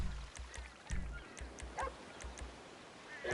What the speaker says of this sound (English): You gotta get away from those dogs.